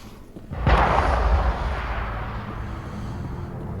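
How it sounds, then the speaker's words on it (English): Heavy hand cannon gunfire in the video game Mass Effect Legendary, a single loud booming shot that rings out and decays into a sustained rumbling tail. "That's some hand cannon he's got there."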